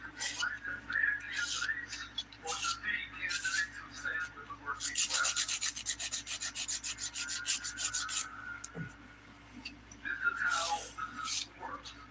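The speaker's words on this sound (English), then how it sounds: "I'm going to take my hand file using the 100 and 180 grit side, and we'll just file these into our almond shape." A hand file with 100 and 180 grit sides rasps polygel nails into an almond shape, close, quiet bursts of scratchy strokes in uneven rhythm with short pauses between.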